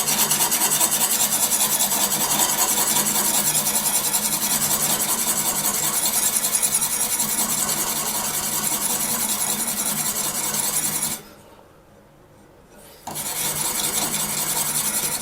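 A knife is drawn over an oiled sharpening stone on a Tsprof Pioneer sharpening system, giving a steady, close rasping rub that runs continuously, drops out for a brief pause, then resumes.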